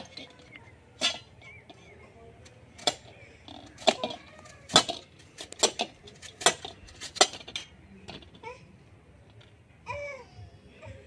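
A knife clicks sharply against a cutting board as peeled potatoes are sliced into rounds, a series of crisp, irregular chops spaced a second or so apart in a quiet kitchen, with faint murmuring underneath.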